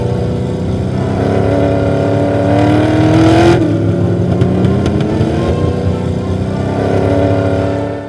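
A 1968 Dodge Charger rat rod, freshly revived, drives down the road with a loud, steady engine drone that swells under acceleration and shifts pitch through the run, with no talking.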